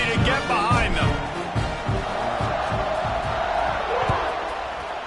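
Big stadium crowd at a Notre Dame vs SMU football game roaring and cheering ahead of the kickoff, a dense loud wash with rhythmic thumps and scattered whoops, under some talk.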